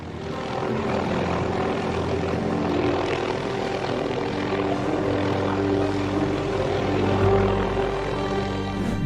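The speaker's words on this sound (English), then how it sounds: "And to rescue this seagull stuck in the power lines, they needed a whole helicopter." A steady, loud helicopter engine drone with a rhythmic rotor chop during a rescue of a seagull caught in power lines, holding close and continuous throughout with no voices.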